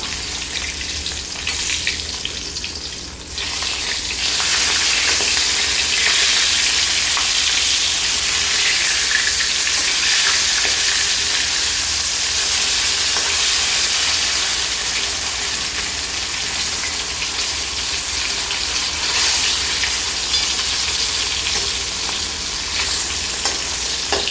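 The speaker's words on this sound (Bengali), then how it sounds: "তো এই মাছগুলো একদিকটা ভালো করে ভাজা হয়ে গেছে এবার আমি পাল্টে দেবো" Flipped rohu fish pieces fry in hot oil, producing a loud, continuous close-up sizzle and crackle that holds steady throughout with no talking.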